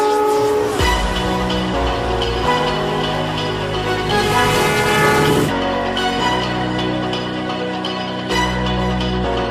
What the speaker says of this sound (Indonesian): Naik kereta api yang baru, yaitu kereta api Baturaden.